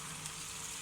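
Oil sizzles steadily on a hot tawa with beef keema, a continuous broadband hiss at an even, moderate level with no talk over it.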